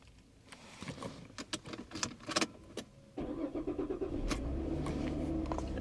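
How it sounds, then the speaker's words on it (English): A 2011 Chevrolet Equinox engine cranks briefly, with clicks and clatter, then catches and settles into a steady, close idle. "I should be able to just now crank the car."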